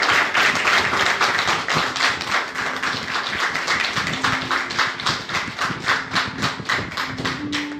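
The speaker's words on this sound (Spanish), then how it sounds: "Dele un aplauso al Señor." A church congregation claps in a steady, dense burst of applause that fills the room, with a faint tone running underneath.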